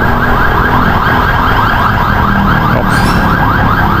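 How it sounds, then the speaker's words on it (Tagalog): A loud wailing ambulance siren sweeps up and down repeatedly, close by and continuous, with traffic on EDSA rumbling underneath. "meron pong ambulansya sa likod"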